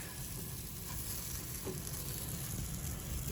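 Breakfast patties frying in a pan with a steady, close crackling sizzle that holds evenly throughout, no voices over it.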